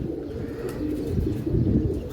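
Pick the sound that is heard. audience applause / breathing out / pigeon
pigeon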